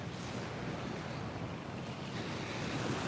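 Steady ocean surf rolls onto Patong Beach on the western side of Phuket at sunrise, a continuous broadband wash of breaking waves with a wind-like hiss, no voices.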